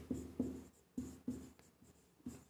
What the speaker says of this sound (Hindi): सबसे पहले यही लाइन लिखते हैं